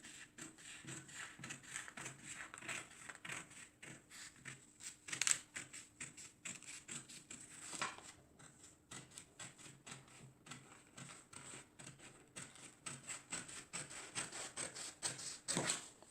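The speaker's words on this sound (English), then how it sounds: "Okay, now I'm going to cut this tag." Scissors cutting a fabric tag while drafting a tube top pattern, a long series of quiet, rapid snipping clicks with brief pauses, close and faint, with no voices.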